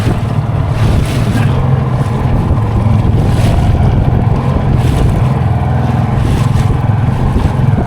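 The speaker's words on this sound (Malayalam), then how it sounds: "തിരയൊക്കെ നല്ലപോലെ അടിക്കുന്നുണ്ട്." Steady rumbling wash of sea water and wind around a moving boat, a constant low roar with occasional splashing surges.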